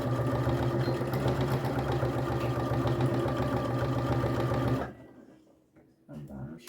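A sewing machine backstitches a fabric necessaire box, a loud, steady close-up mechanical whir that runs for about five seconds and then stops, followed by faint handling sounds.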